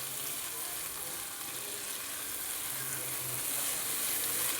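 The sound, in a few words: chhana (cottage cheese) frying in spice masala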